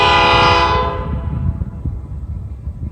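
A Norfolk Southern train sounds its horn loudly and close by, the blast fading after about a second into the steady rumble and clatter of the passing train.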